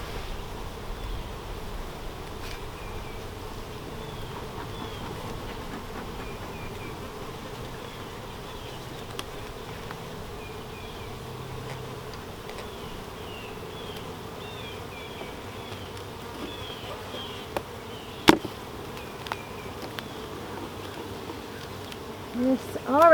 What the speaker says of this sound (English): There's lots of bees up here.